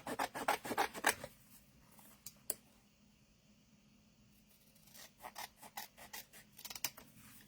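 Scissors cut through black and white photographs, giving a burst of close, quick rasping snips, a quiet pause, then another run of short cutting strokes.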